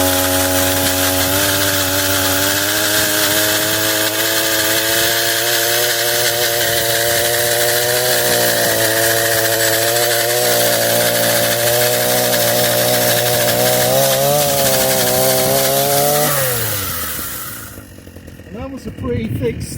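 A PROYAMA 42.7cc petrol multi-tool with a pole saw attachment cuts into a thick tree stump, its engine droning loud and steady with pitch dips under load before winding down to idle.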